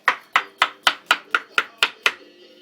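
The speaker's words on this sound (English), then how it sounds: "Zucchinis you cut like this" A knife chops through zucchini on a cutting board in nine crisp, evenly spaced strokes, close and clear, with no voices.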